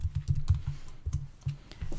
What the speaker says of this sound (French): j'écris, puis j'appuie sur Entrée.